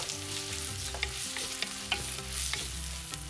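Thin-sliced onions sizzle with garlic in hot oil for a Kerala mango curry, stirred with short scraping strokes over a steady fry, with faint steady tones running underneath.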